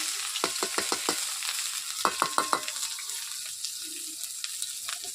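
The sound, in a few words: fish, chopped onions and green chilies frying in oil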